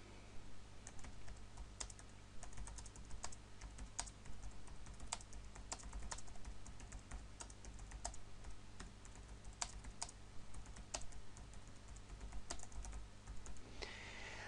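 Steady typing on a computer keyboard, close and quiet, with irregular clusters of key clicks continuing for the whole stretch and no talk.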